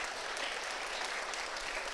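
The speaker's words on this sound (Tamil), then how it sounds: "கடவுளுக்கு ஒரு பெரிய கைதட்டு கொடுங்க" A church congregation applauding, a dense, steady wash of many hands clapping, fairly loud and sustained, with no voices standing out.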